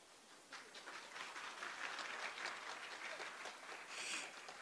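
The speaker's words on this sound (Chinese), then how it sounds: "让我们再一次以热烈的掌声欢迎我们第一场试的贵宾" Audience applause at the 2024 Fubon sustainability forum, a steady wash of many hands clapping that swells after a moment and holds, heard from a distance and fairly faint.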